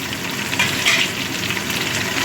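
Potatoes, turnip and tomato sizzle steadily in a hot pan, a constant crackling fry with a brief louder burst near the middle, close and alone without any talking.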